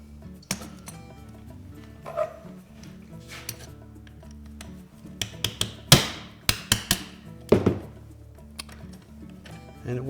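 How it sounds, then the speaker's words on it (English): A punch drives a ground-down rivet out of a Whirlpool refrigerator roller, giving several sharp metallic hammer strikes in the second half, close and loud over a low background hum. "Now once we've ground the rim of that rivet off of there, we can now punch it through."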